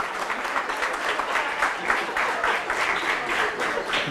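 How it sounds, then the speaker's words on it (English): An HR summit audience applauds a speaker being introduced, a dense, even wash of many hands clapping that holds steady from start to finish. "Please give him a big round of applause."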